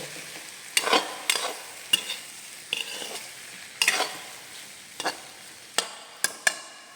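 Okra and onions frying in a pan are stirred with a utensil, giving sharp scraping clacks at irregular intervals over a soft, continuous sizzle, close and without speech.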